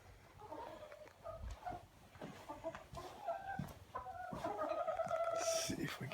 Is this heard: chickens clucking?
yes